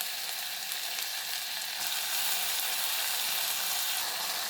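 Onions salted and sautéing in a pan for a green pigeon pea biryani give off a steady, loud, broadband sizzle that holds evenly throughout with no voices.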